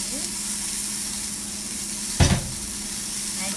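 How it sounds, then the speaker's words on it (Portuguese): A sweet potato flour hamburger sizzles in a frying pan, a steady close hiss with a brief louder clatter as the patty is turned partway through. "Deixa eu virar aqui o hambúrguer"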